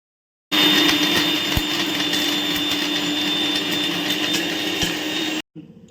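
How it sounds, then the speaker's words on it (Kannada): A kitchen mixer grinder runs at full speed, grinding ingredients for a home-cooked ragi mudde meal. Its loud, steady whir and hum starts suddenly, holds for about five seconds, and then cuts off abruptly. "ಇದನ್ನು ರುಬ್ಕೊಳ್ಳೋಣ ಫ್ರೆಂಡ್ಸ್"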